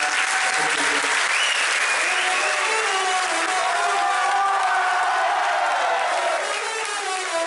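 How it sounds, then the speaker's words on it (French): Loud, sustained applause with cheering from a crowd at a film festival award, continuous and close throughout. "Merci à vous aussi pour vos applaudissements."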